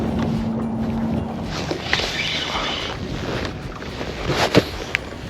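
Wind buffets a boat on a winter striped bass fishing trip, a steady rushing roar with gusty swells and a few sharp knocks and creaks near the end, no voices.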